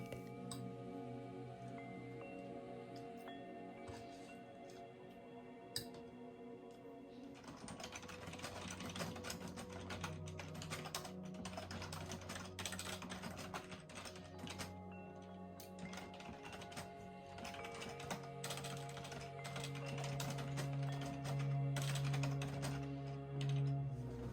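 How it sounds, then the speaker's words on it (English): Computer keyboard typing clicks patter steadily in the background of a home, mixed with music and other household noises throughout. "don't mind the keyboard clicks and other noises that you hear in the background"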